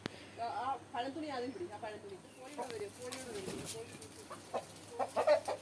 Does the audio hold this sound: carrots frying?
no